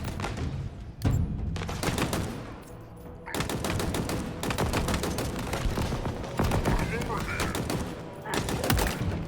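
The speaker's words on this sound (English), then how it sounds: "this brute captain is sniping me with his plasma cannon" Brute captain firing a Ravager plasma weapon in Halo Infinite: rapid bursts of heavy, punchy shots in repeated volleys with brief pauses, loud and close amid busy combat noise, voices under the gunfire.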